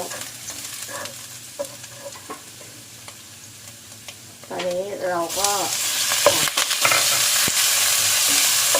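Garlic sizzles and crackles in a hot wok for a pineapple and pork soy sauce stir-fry, getting louder partway through as stirring begins, with a brief spoken phrase over the frying.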